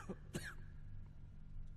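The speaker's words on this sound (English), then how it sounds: "lot of people coughing around here" Two quick, muffled coughs from a character in the video game Fallout London sound close by over a low background hum, followed by quieter ambient noise.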